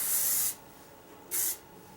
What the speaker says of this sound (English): So I'm just gonna go ahead and spray that in there.